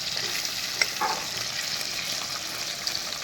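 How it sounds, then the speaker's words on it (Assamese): Local river fish fry in a pan, a steady close sizzle and crackle of hot oil that runs throughout with no talk. "এই বৰ্তমান মই মাছ ফ্ৰাই কৰি আছোঁ"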